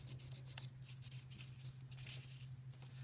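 Cardboard rubbed across a drawing of tentacles to transfer its texture, giving soft, continuous scratchy brushing strokes, close and quiet over a steady low electrical hum.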